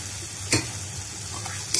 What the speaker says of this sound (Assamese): আৰু আকৌ মই অলপ সময় ভাজিম।